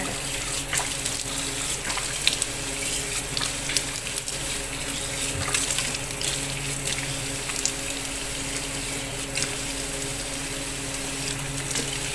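Steady running tap water pours without a break while someone rinses face wash off their face, a close, even rush with faint splashes and no talking.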